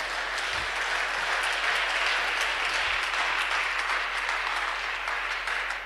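A church congregation applauds the Lord in a steady, dense wash of clapping that runs unbroken from start to finish, close and loud, with no talking over it.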